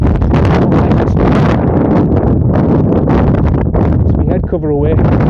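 Heavy gusting wind buffets the microphone outdoors on a golf course, a loud roaring rumble with a person speaking under it.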